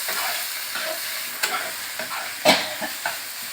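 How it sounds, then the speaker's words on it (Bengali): Curry ingredients with fish heads sizzle and fry in a pan while being stirred, with soft scraping scrapes and a few sharper clinks of the spatula over a steady frying hiss. "এবার এটাকে ভালো করে কষতে হবে।"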